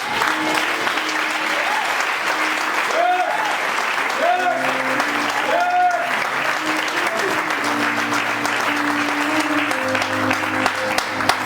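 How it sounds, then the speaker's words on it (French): A church congregation applauds loudly and continuously during a French-language sermon. Sustained clapping fills the space while voices or tonal singing rise and fall above it. "Acclame le Seigneur."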